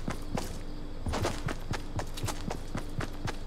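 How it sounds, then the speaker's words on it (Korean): Heavy footsteps of a player character in the Fortnite Battle Royale video game, a steady, loud run of thudding steps close by, with no talk over them. "얘네 이렇게 발소리가 크냐? 군화 신었나?"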